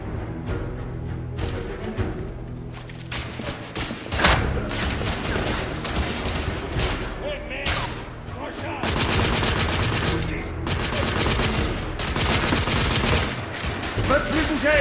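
Heavy gunfire from The Order 1886, with bursts of machine-gun fire and layered shots in rapid succession. The firefight runs dense and loud for the whole stretch, and a voice talks over it at times.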